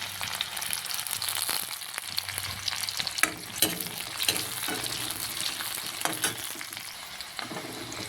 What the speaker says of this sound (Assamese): পিঁয়াজ জলকীয়া নহৰুখিনি ভাজি লওঁ, তাৰপিছত মই বিলাহীখিনি ভাজিম।